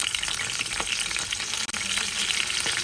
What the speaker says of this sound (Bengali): অল্প একটু পেঁয়াজ কেটে দিচ্ছি